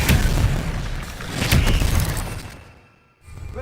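An Expelliarmus spell cast in the video game Hogwarts Legacy, a loud magical burst and crackling blast with bright sharp hits that fade into a brief quiet before the noise swells again.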